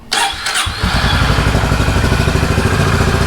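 A Honda CB 350 motorcycle engine cranks and catches, then settles into a loud, steady, throbbing idle close by.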